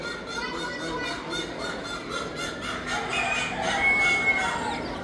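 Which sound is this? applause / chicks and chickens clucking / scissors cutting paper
chicks and chickens clucking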